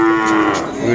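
An Ongole cattle calf in Kodada, Telangana, gives one loud, close, sustained moo that fills the whole moment, steady and droning, with no talking.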